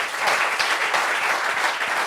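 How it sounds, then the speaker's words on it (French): Studio audience applauding during a French talk show discussion on youth unemployment, a dense steady burst of many hands clapping close and fairly loud throughout, with no voices over it. "Applaudissements pour ça quand même"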